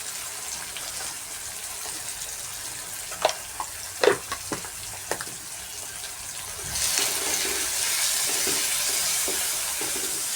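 Chopped tomatoes with added salt sizzle and fry in a hot pan, a steady crackling hiss broken by a few sharp stirring clinks, the sizzle swelling louder partway through; nobody speaks.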